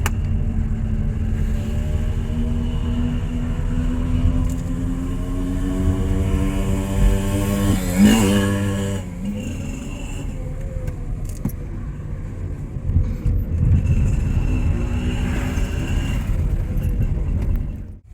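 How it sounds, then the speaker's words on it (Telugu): Evening road traffic on a hill road near Kodaikanal, with a vehicle engine droning steadily nearby and a passing car's rising whine and rush partway through, a low continuous rumble throughout. "ఫుల్ ట్రాఫిక్ అసలు"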